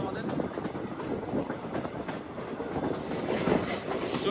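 A crowded train rumbles steadily along the rails in Assam, a continuous broadband roar with faint rhythmic clatter and muffled voices mixed in.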